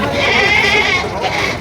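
Goats bleat loudly and continuously nearby at a livestock market in Padre Garcia, Batangas, their wavering cries overlapping amid the busy murmur of a crowded outdoor market.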